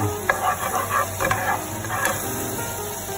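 Ingredients for creamy Tuscan buttered salmon being stirred in a pan, with scraping and clinking of a utensil over a soft sizzle, busiest in the first two seconds, then a quieter simmer.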